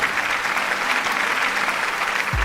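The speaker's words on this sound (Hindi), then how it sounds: "एक बार जोरदार तालियां अपने लिए बजाइए प्लीज।" Dense, loud applause from a crowd, a steady wash of clapping hands filling the room without a break.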